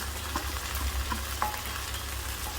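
Chicken and capsicum fry and sizzle in a pan while being stirred, a steady close crackle with scattered scraping clicks from the spoon, with no talking.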